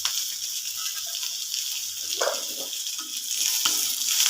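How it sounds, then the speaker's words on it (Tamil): Five small peeled shallots fry in a pan for murungai thogaiyal, a continuous bright sizzle that builds slightly louder toward the end, with faint stirring sounds and no talk. "இதுக்கப்புறம் ஒரு 5 சின்ன வெங்காயம் உரிச்சதை எடுத்து சேர்த்துருக்கு."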